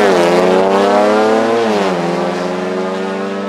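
Race cars lapping a circuit, one loud engine close by rising in pitch then dropping as it shifts and passes, with more cars running behind it.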